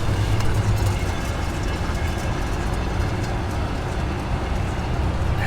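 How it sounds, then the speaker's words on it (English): Worn wheel bearing on a Dodge RAM 1500, spun with the brake caliper removed and only the rotor fitted, a steady rough grinding rumble held at close range without pause. "It has a noisy bearing."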